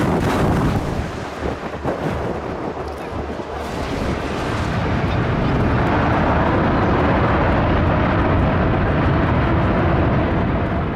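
A Wizz Air airplane roars in low over a crowd at Skiathos Airport as it comes in to land. Its jet engines build to a loud, sustained, rumbling wash that fills the clip, with no speech.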